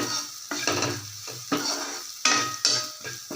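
Onions sizzle and fry in a pan, with repeated scraping stirs from a utensil every half second or so, close by.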